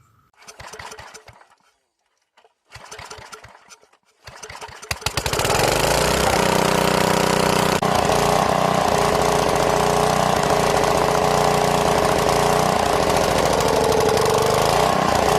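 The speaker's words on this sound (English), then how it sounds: "this Briggs & Stratton flathead engine that came off of an old generator" A Briggs & Stratton flathead engine taken from an old generator cranks in short rough bursts, catches, and then runs at a loud, steady, rattling roar close by, with no voices.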